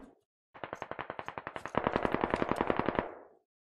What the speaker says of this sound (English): Heading west, shots fired.